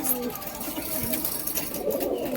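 Flying pigeons kept in a loft coo softly and continuously, a close, low, rolling murmur over a couple of seconds.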